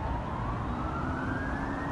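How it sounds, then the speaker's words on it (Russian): An ambulance siren wails steadily through heavy traffic on a city avenue clogged with cars leaving Kharkiv, its rising tone riding over a dense, continuous roar of engines and road noise. "Едут скорые,"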